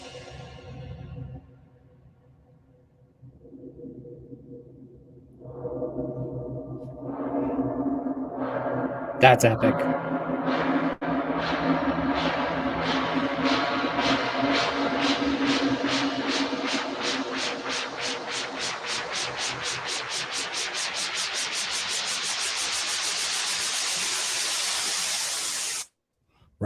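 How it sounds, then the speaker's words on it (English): A synth tone through a hybrid reverb set to 100 swells into a long, washy, shimmering reverb tail that grows brighter and noisier before cutting off abruptly; a voice briefly speaks over it. "if you add a reverb, the hybrid reverb specifically, and you have that set to 100"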